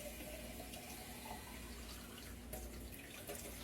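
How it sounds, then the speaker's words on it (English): Tap water runs steadily into a pressure canner, filling it with about three quarts of cold water for canning dry beans; a continuous close splashing pour. "Going to fill your canner with 3 quarts of water."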